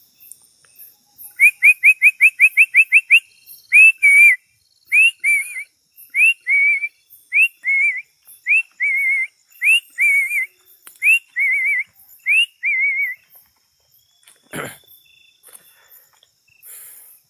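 A series of clear, bird-like whistles, a quick rapid burst followed by evenly spaced two-note calls, then a single sharp downward swoop near the end.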